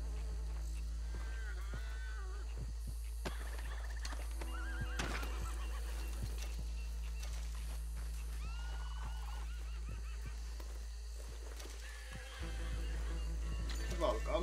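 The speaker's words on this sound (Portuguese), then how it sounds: "O cavalo tá bolado ali." A horse in Red Dead Redemption 2 neighs repeatedly over a steady low rumble, with hoof clops and other game sounds mixed in, while a voice talks over it.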